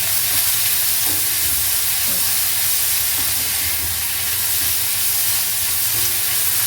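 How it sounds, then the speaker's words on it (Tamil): Onions and garlic sauté in a pan with rock salt for a spicy tomato chutney, a loud, steady close-up sizzle and hiss running unbroken with faint stirring scrapes. "வெங்காயம் கொஞ்சம் நல்லா வதங்கணும்."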